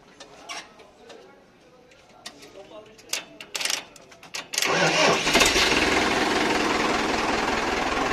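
A Powertrac Euro 55 tractor at a tractor market in Shamli cranks over after a few clicks and knocks, then catches and settles into a loud, steady diesel running rumble close by, with voices nearby.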